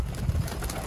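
A Sialkoti pigeon coos once, a short low throaty burble heard close up and alone.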